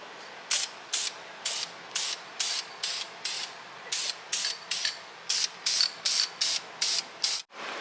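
Aerosol spray paint going onto a brake caliper in light coats: a series of short, evenly spaced hissing bursts, about fifteen in all, close and fairly loud with brief pauses between them, ending on a soft thump.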